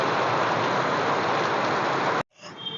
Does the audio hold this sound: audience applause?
no